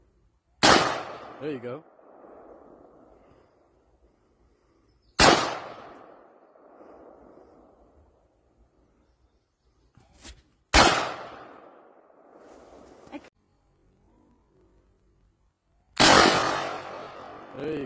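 Four sharp 9mm gunshots ring out a few seconds apart, each followed by a ringing metallic clang from a steel spinning target; a brief voice speaks near the end.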